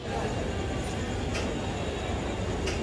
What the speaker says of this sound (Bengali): আমাদের ট্রেনে এসে দাঁড়ালো নৈহাটি রেলওয়ে স্টেশন